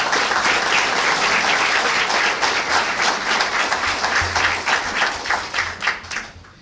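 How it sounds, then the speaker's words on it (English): A crowd at a Chicago violence-intervention event applauds sponsors, loud dense clapping that holds steady, then thins into scattered claps near the end. "I'd like to give each of them a round of applause for the very generous support"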